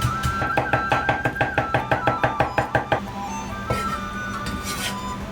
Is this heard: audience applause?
no